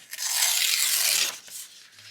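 Paper being torn by hand for a travel journal: one long, loud rip lasting about a second, then a softer short tear and light rustling, with no talking.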